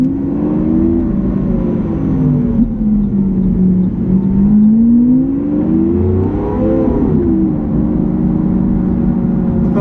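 A Lamborghini Aventador pulls away from a standstill, its engine droning loud and close with a rising and falling pitch as throttle is fed in, steady and unbroken without talk.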